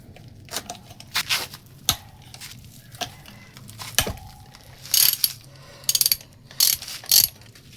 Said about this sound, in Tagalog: Gamit tayo ng 12mm na socket para dito sa tornilyo.